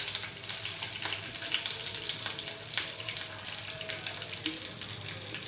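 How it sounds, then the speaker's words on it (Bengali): Cumin, bay leaf and four green chillies fry in hot oil as a tempering, giving a steady, soft, continuous sizzle with faint crackles throughout. "সো এখানে ফোড়নে দিয়েছি আমি জিরে, তেজপাতা, 4টে কাঁচা লঙ্কা দিলাম"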